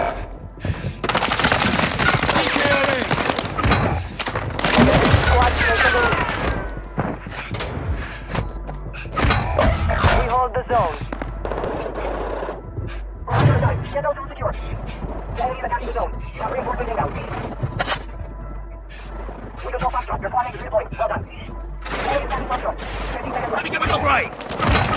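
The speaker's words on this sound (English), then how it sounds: "Taking effective fire!" Rapid bursts of automatic gunfire and scattered single shots in Call of Duty: Warzone 2 on the Vondel lockdown map, loud and continuous with thuds, while brief radio-style voice lines play over the action.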